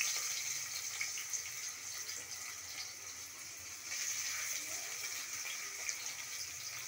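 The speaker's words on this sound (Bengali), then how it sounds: "এখন পেঁয়াজ দিচ্ছি, তেল গরম হয়ে গেছে" Onions frying in hot oil while cooking biryani make a steady, even sizzling hiss that holds at moderate volume throughout, with no voices.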